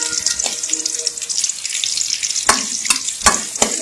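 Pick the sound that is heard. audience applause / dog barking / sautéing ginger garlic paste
sautéing ginger garlic paste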